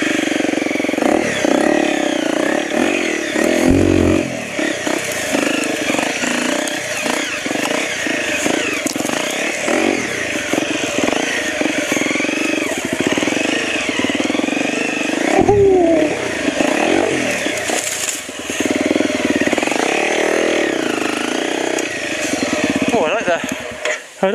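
An enduro motorcycle climbs a hill, its engine revving and labouring in uneven surges, loud and close, with throttle blips and dips, occasional thumps and clatter, and brief stretches where it eases off.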